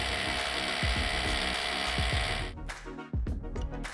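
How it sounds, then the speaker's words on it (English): Rapid ratcheting clicks from a hand ratchet tightening masonry bolts through a bracket into a concrete basin wall, steady and close, with a few brief pauses and heavier clunks near the end. "using the ratchet, secure the masonry bolts through the bracket into the basin wall"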